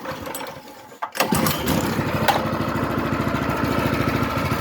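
A Predator 212cc engine in a Coleman CT200U minibike, a pull-start followed by a sputtering catch and then a steady, loud, rhythmic idling chug heard up close.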